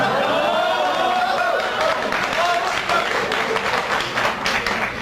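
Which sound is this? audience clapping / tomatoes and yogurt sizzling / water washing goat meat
audience clapping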